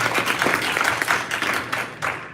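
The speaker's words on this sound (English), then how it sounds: "I think we should give him a round of applause." Audience applause fills a school board meeting room, a steady round of many hands clapping for about two seconds, fairly loud and close, with no talk over it.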